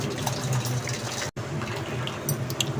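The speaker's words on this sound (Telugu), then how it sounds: "ఇప్పుడు ఈ వాటర్ అన్ని వంచేసుకున్నాము గిన్నెలోకి" Cooked lentil water for Andhra pappu charu is tipped from a pot into a bowl, a steady close pour of liquid running on for a few seconds with one abrupt break partway through.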